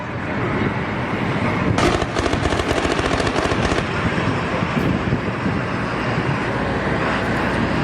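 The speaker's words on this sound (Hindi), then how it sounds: "सरकारी इमारतों पर बड़े हमले लगातार जारी हैं, एक के बाद एक फायरिंग हो रही है।" Gunfire crackles during an attack on a government building and state TV channel in Syria, a dense continuous roar of rapid shots with sharper bursts, loud and sustained throughout.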